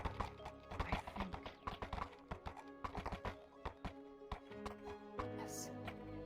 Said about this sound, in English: Now you have to keep a tight rein on your horse.